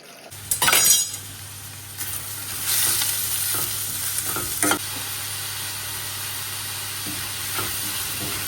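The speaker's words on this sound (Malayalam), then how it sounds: "അപ്പോൾ കട്ട്ലറ്റിന് വേണ്ടിയിട്ട് കുറച്ച് ഉള്ളിയെല്ലാം ഫ്രൈ ആക്കുന്നുണ്ട്" Onions fry for cutlets in a steel pan, a steady sizzle broken by several scraping clinks of a steel spoon stirring, busiest in the first few seconds, then settling to quieter sizzling with occasional taps.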